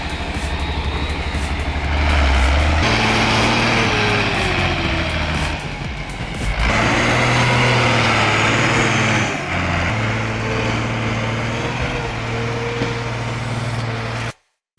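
An Ursus 1614 tractor engine labours hard while dragging heavy logs, a loud, close diesel roar whose pitch rises and sags as the revs climb and bog down under load.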